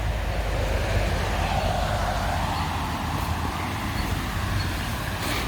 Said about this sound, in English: So you're gonna hear road traffic.